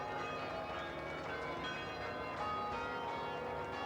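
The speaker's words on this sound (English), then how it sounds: "Listen to the bells." Nine large bells weighing about 4,300 pounds on the Ringling circus bell wagon, built as Russian cathedral chimes, ring together in a dense, continuous, moderately distant wash of tones at a 1987 circus parade.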